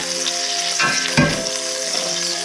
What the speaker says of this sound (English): There's the meat. It's getting seared